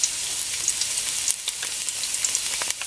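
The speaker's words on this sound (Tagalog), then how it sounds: "Gigisahin natin yung ating chop suey." Garlic sautéing in hot oil in a pan for chop suey, a dense, continuous close sizzle with small crackles and occasional stirring scrapes, no talking.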